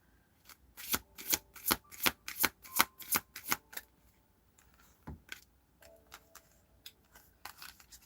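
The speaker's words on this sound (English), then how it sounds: "Shuffle." A deck of tarot cards being riffle-shuffled up close, a rapid run of sharp crisp snaps followed by sparser scattered flicks and taps, with no talking over them.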